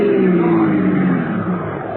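A car engine drones and revs as the vehicle is steered into a curb, a steady close motor hum easing off slightly toward the end, with no talk.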